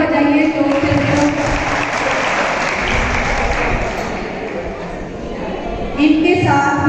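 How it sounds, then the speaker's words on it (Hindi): An audience at a college prize ceremony applauds, a long, dense wash of clapping from a large crowd, with an amplified voice speaking over it at the start and end. "तालियां बजाइए जोर से।"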